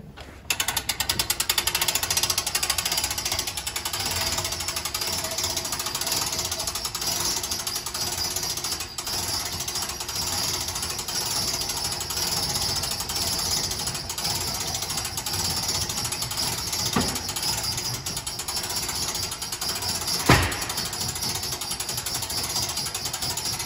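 A hand crank turning the front roof winch of a 2022 Clipper 108ST tent trailer, giving a steady ratcheting, clicking mechanical whir that runs continuously at close range with a couple of sharper knocks near the end.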